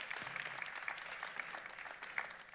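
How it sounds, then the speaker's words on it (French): Audience applause for a speaker named Nadine at a French medical congress forum on healthcare access, a steady patter of clapping from a seated crowd, fairly quiet and continuous for a few seconds. "je crois qu'on peut applaudir Nadine"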